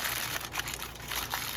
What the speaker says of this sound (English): With two sides of heavy duty foil. Just fold them down just like that right there.